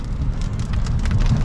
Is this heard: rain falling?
yes